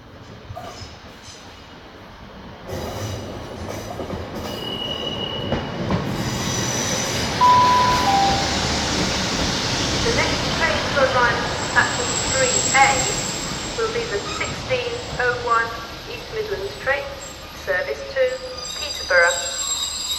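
A Class 156 diesel train arrives at Lincoln Central station with rising rumble, wheel squeal and faint high-pitched tones, clattering steadily as it draws near and slows.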